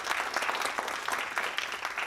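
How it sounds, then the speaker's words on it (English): An audience at an entrepreneurship talk claps for a speaker named Daryl, a brief, even burst of crowd applause at moderate loudness with no voices over it. "Let's give Daryl a big round of applause."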